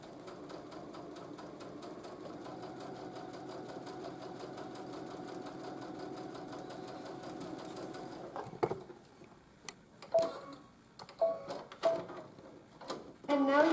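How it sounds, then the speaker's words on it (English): A sewing machine running a twin or triple needle stitches pin tucks in a long, steady whirring rattle, then stops and gives a few short bursts of stitching with quiet handling between them. "lower the presser foot down, and sew another set"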